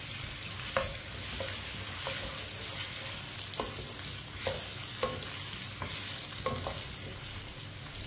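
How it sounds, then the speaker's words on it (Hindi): Cut potatoes tossed in hot oil for a raw mango and potato sabzi, a steady sizzle broken by repeated sharp spoon scrapes and stirring clinks, close up and moderately loud. "कटे हुए आलू डाल लेंगे, मिक्स कर लेंगे।"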